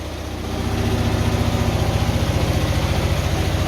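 A Hyosung Comet GT250 motorcycle idles close by, its engine settling into a steady low chugging pulse with a fast, even beat that grows a little louder after the first moment, with no talk.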